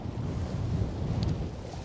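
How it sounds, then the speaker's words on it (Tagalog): Steady low rumbling wind buffeting the microphone on Flinders Pier, a continuous roar with no voices. "Malakas pa rin ang hangin."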